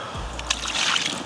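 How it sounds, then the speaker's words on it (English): Water is poured over a freshly caught, battle-scarred carp, giving a short, soft splash and slosh with a brief trickle, close and fairly quiet. "Pour a bit of water on her."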